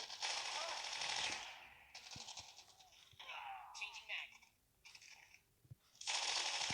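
Rapid automatic gunfire from Call of Duty plays in loud bursts with brief gaps, close and dominant, while a player talks over parts of it.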